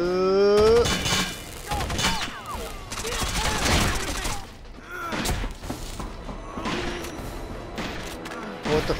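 Bursts of automatic gunfire and impacts in a Rainbow Six Vegas 2 firefight, dense rapid shots mixed with thuds and crashes, loud and close, with voices talking over parts of it.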